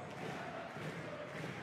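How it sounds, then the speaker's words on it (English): Crowd at a Basketball Champions League game between UNET Holon and EWE Baskets Oldenburg, a steady, distant roar of many voices that holds for the whole moment, with no single shout standing out. "Crowd have certainly found their voice"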